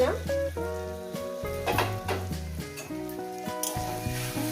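Spices stir-fry in a pan for a Bombay duck fish and greens dish, a soft sizzle with occasional utensil scrapes largely buried beneath loud melodic background music.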